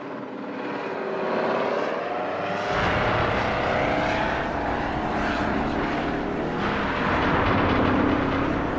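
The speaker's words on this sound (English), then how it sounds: "The latest threat is this hybrid plane, the Osprey, notorious for its safety issues." An Osprey hybrid tiltrotor military aircraft flying overhead, a loud continuous droning roar of rotors and engines that swells and shifts in pitch as it passes, with no voices.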